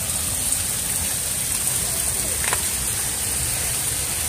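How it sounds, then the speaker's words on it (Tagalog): Heavy rain falls steadily outdoors during a seafood-catching trip by the sea, a dense even hiss with a brief faint chirp partway through and no voices. "Yan, ang lakas pa rin yung ulan."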